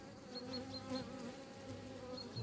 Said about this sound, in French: Avec les abeilles.